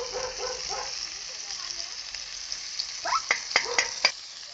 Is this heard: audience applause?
no